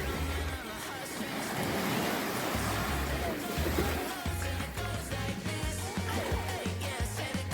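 Ocean surf washing onto a Western Australian beach, a steady broadband rush of breaking waves with low rumbling swells, continuous and fairly close, with wind noise buffeting the microphone.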